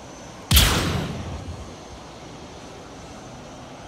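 A single gunshot fired in the space game Star Citizen, a sharp loud blast followed by a booming echo that fades over about a second, with quiet ambience afterward.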